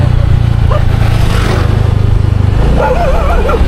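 A loud motorcycle engine drones close by with a steady low rumble, rising in pitch near the end as it revs.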